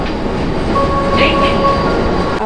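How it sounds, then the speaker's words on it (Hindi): A Vande Bharat Express train pulls out of Ludhiana station, giving a steady loud rumble of wheels on rail, a brief squeal and a faint high tone over the constant noise. "हमारी रेलगाड़ी लुधियाना से has departed to our next stop"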